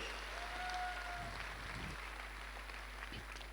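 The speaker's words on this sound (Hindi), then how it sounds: "जोरदार तालियां होनी चाहिए।" Steady applause from a crowd, a continuous wash of clapping at moderate volume with no voices standing out.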